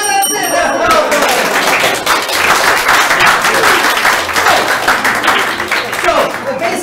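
An audience at an improv comedy show applauds loudly, dense sustained clapping that swells and carries on for several seconds, with some voices mixed in.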